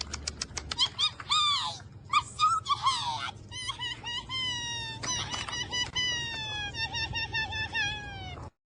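Puppies yipping and whining in a quick run of high, sharp cries, near and fairly loud, with an animated clip's music and voices around them.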